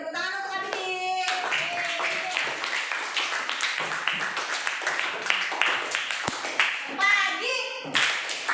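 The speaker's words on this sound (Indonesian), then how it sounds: "beri tepuk tangan untuk Abidin" Schoolchildren in a classroom clap for a classmate after a group presentation on a solar-powered stove, a lively ragged burst of hand claps mixed with children's voices and chatter.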